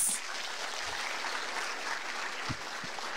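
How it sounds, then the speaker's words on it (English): An audience applauds with a continuous, fairly quiet wash of clapping that holds steady for a few seconds. "I think he deserves another round of applause."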